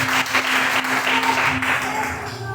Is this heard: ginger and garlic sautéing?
no